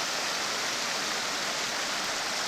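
Creek water running steadily over bedrock at Slab Hut Creek, a continuous broadband wash with no breaks, fairly close and moderately loud.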